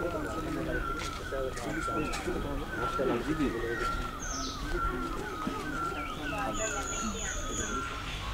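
Birds coo and chirp steadily in the open air after rain in Darjeeling, with scattered higher tweets, while people talk nearby throughout.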